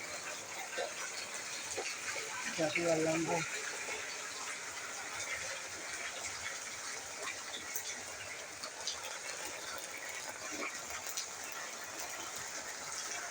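Steady rain falls outside a house veranda, a soft, even wash of hiss that continues throughout at moderate distance, with a brief low murmur near the start.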